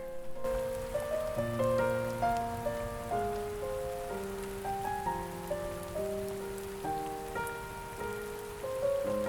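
Steady rain pattering on a surface in Animal Crossing: New Horizons, a soft, even wash running continuously beneath gentle looping piano-like tones, with no voices.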